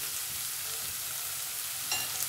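Spices crackling and sizzling in hot oil for egg dal tadka, a steady close frying hiss with a brief sharper pop near the end.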